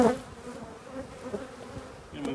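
Honey bees at a hive in spring, with a steady, close buzzing drone and a brief louder burst at the start, with no talking.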